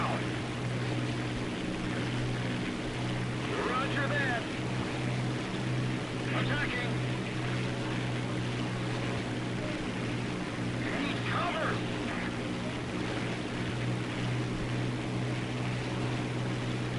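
Steady low engine drone of a boat running at reduced throttle in War Thunder, a continuous hum with brief higher whines overhead and occasional voice in the background.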